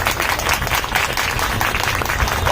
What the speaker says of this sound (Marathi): जोरदार टाळ्या व्हायला हव्या